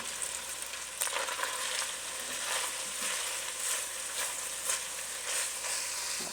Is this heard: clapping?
no